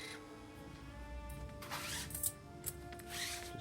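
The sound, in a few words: welder power feed pushing out the old welding wire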